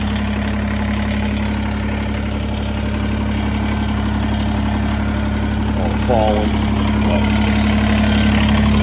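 A Kubota tractor engine idles steadily nearby with a constant low rumble, while a person talks briefly over it.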